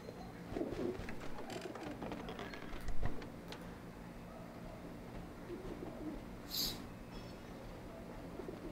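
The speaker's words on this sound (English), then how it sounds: "Just a cage, but the birds don't seem to mind." Caged pigeons or doves cooing in the game Alice: Madness Returns, soft low coos recurring over a quiet mechanical ambience, with one brief brighter chirp partway through.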